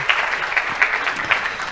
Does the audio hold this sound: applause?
yes